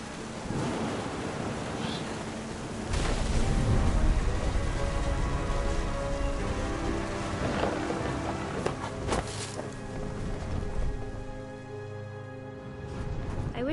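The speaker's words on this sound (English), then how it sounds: "The thunder sounded much too close and full of angry power." Steady, dense rain and a low rolling rumble of thunder in the video game What Remains of Edith Finch fill the whole stretch as a continuous stormy wash.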